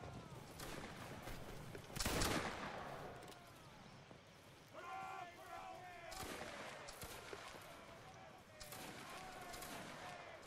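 Musket volley fire in Roblox Waterloo, a British Army line against Russia: one loud crashing volley early, then several scattered shots and crackles, with faint voices and game ambience underneath.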